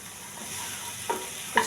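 Spiced eggplant stirred and frying in a pan with chilli powder and turmeric, a steady soft sizzle with two sharp scraping clicks of the spoon near the end.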